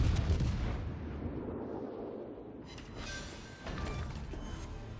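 Naval gunfire in a warship video game as an enemy cruiser is destroyed: a loud, dense rumble of heavy gun blasts and explosions that fades, then a second burst of crashing fire with metallic impacts.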